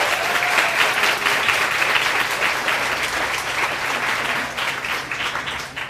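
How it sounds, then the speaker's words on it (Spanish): A forum audience claps together in dense, sustained applause that stays loud and steady for several seconds, then thins slightly at the end. "Un aplauso, por favor."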